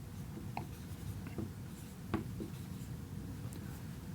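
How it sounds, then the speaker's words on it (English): Pen scratching across paper while jotting down a finance term, a steady soft scrawl with a few sharper strokes, close and alone over a faint background hum. "Let me write that down."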